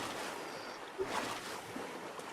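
Ocean waves in the survival game Stranded Deep wash in a soft, continuous surf hiss with a gentle swell in the middle, faint and steady with no talk.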